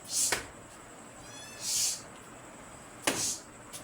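Cat meows heard indoors during a physics lesson: three separate high, fairly loud cries spaced roughly a second and a half apart over quiet room noise.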